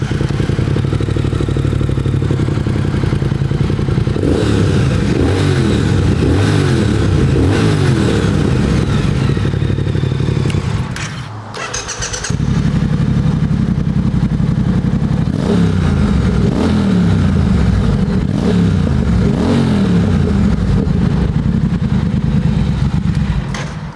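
Two 2021 Triumph Speed Twin motorcycles, one fitted with a slash-cut exhaust, start up one after the other, each settling into a loud, close, throbbing idle with blips of revving and a brief pause between them.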